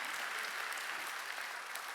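Congregation at a Korean church Sunday worship service clapping steadily for about two seconds, a dense even wash of applause with no talk.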